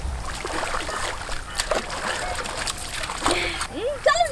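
Water splashes and sloshes as people bathe in cold water outdoors, with intermittent bursts of splashing amid lively talk between the bathers.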